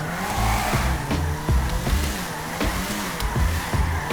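A BMW M3 E46 in GTA 5 revs hard while its tires squeal and burn, with sharp exhaust pops and crackles cutting through the steady engine roar.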